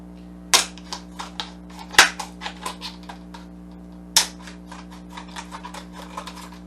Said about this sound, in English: what I do is I take a pair of scissors and I cut